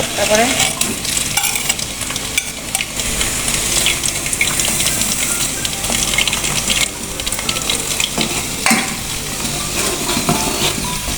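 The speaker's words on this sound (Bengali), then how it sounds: "এগুলো এখন চুলায় মিডিয়াম আছে ভাজবো ততক্ষণ পর্যন্ত যতক্ষণ না পেঁয়াজ আর অ্যালোভেরাটা ভাজা ভাজা হয়ে আসে" Onion and aloe vera with nigella seeds and fenugreek fry in coconut oil over medium heat, giving a loud, dense crackling sizzle that runs throughout with scraping stirs and no speech.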